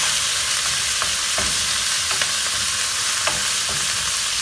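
Szechuan beef stir-frying in a wok over very high heat, around 800 degrees: a loud, steady sizzle with repeated scraping stir strokes, and no voices.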